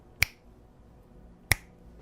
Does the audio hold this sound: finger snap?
yes